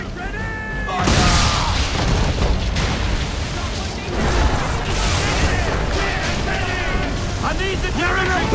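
Cannon and gunfire booms in Assassin's Creed 3 on Xbox 360, heavy repeated blasts rumbling continuously and loudly over a long stretch, with shouted voices mixed in.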